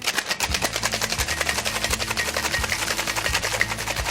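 A gimlet cocktail is shaken hard with large 2x2 ice cubes in a cocktail shaker. The cubes rattle and slosh in a fast, steady rhythm, loud and close, throughout.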